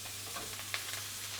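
Steaks fry in butter with a garlic clove and thyme sprigs in a pan, giving a faint, steady sizzle with light clinks as the pan is shaken.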